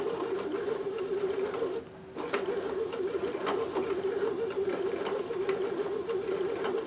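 A Babylock sashiko sewing machine stitches fabric with a steady rapid mechanical whir and chatter, pausing briefly once before resuming at an even pace, close and clear with no talking.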